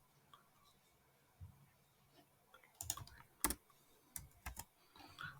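Typing on a computer keyboard at a desk: faint scattered key taps at first, then a cluster of sharper, louder clicks near the end, close by and quiet overall.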